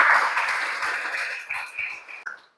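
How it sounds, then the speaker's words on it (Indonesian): A group claps together in a classroom, brief moderately loud applause that fades out and ends with a few scattered claps. "tepuk tangan untuk kita semua ya"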